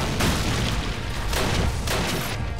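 Rapid gunfire and booming blasts from a WWII strategy game, Faces of War, aimed at an anti-aircraft gun; a dense, continuous loud barrage with overlapping explosions throughout.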